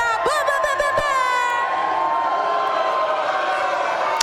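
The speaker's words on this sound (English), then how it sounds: "Sounds to me like they booing her out of the stage" A large crowd at an awards show roars steadily, loud and continuous, with a high held note and shouts layered at the start.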